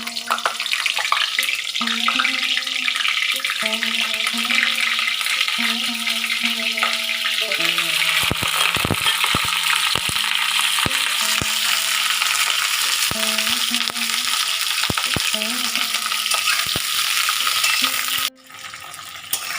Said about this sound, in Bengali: গরম হয়ে গিয়েছে, কপিগুলো একটু ভেজে নেব।